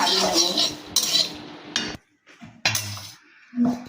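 Fried black cumin, garlic and dried chilli are poured from a pan, loud metallic scraping and clinking of the pan and utensil in bursts with short quiet gaps.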